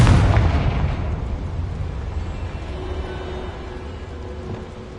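A Confringo spell explosion in the Hogwarts Legacy game, one loud, deep blast at the start that rolls off into a long low rumbling decay, heard alone without talk.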